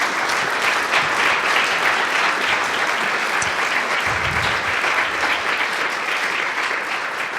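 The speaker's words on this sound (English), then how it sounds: "Let's give a round of applause to all participants." Sustained applause from a sizable crowd at a church variety show, steady clapping that fills the room for several seconds without letting up.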